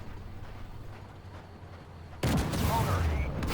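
Tank gunfire in Armored Warfare with an M1 Abrams: quiet engine rumble, then one sudden loud cannon blast that leaves a sustained roar afterward.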